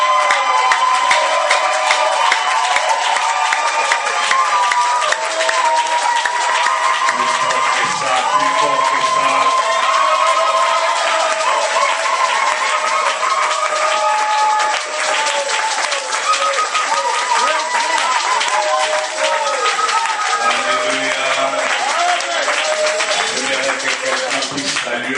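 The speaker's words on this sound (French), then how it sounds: "Est-ce qu'on peut donner à Dieu une offrande d'applaudissements pour la vie de Dieu?" A church congregation applauds at a Sunday service in Mons, with sustained dense clapping and some cheering that keeps going without a break. Voices and music run underneath the applause.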